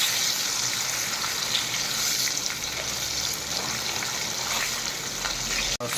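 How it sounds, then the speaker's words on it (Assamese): Rupchanda fish sizzles and crackles in hot oil in a pan, a loud, continuous close frying hiss with no voices. "তেল গৰম হৈছে, এতিয়া মাছ দিলোঁ।"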